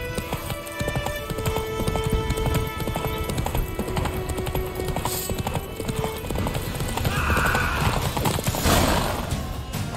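Geralt's horse Roach gallops in The Witcher 3, hooves pounding in a fast, steady clip-clop rhythm up close, with a whinny breaking through and game sounds layered around the run.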